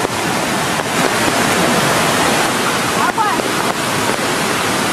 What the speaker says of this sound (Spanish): no vamos a poder pasar porque está súper crecido el río